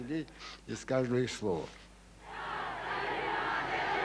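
A large crowd in Iran chants loudly and steadily in unison, a sustained roar of massed voices that builds after a few seconds of a man's speech.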